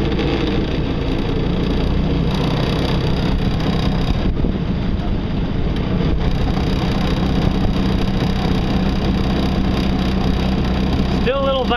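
Ultralight solar-powered speedboat running faster across water, a continuous loud motor and rushing water roar mixed with heavy wind buffeting on the microphone, steady throughout.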